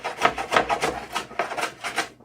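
A block plane shaves wood in a series of rhythmic rasping strokes, about eight close passes with brief gaps between them and no talking.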